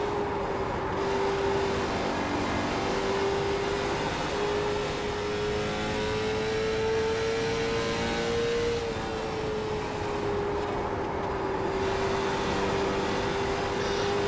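A steady, loud race car engine drone in a racing video game at Richmond, with a sustained tone rising and falling slightly as the car holds high revs, continuous throughout.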